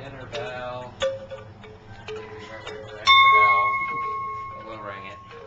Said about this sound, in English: Dinner bell.